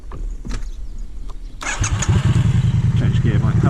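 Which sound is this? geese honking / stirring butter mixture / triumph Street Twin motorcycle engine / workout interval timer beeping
triumph Street Twin motorcycle engine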